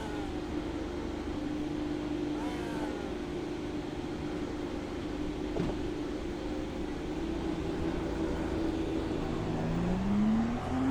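An Indy car engine idles and rolls at race start at Michigan International Speedway in iRacing, a steady drone with light pitch sweeps and a rising rev toward the end.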